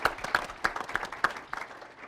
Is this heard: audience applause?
yes